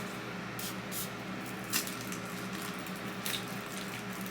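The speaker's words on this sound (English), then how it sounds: "let me spray it again" Perfume spray from a bottle of a Bianco Latte dupe fragrance, heard as brief soft hissing bursts, a few separate short sprays, close and fairly quiet, with no talk.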